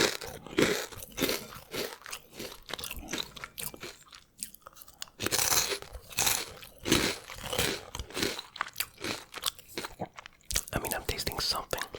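Crunchy imported Cheetos bitten and chewed close to the mic in a quiet whispered eating session, with repeated crisp crunches in irregular bursts, soft whispering between bites.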